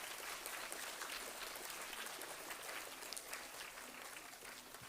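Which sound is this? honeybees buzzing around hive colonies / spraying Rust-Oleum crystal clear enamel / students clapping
students clapping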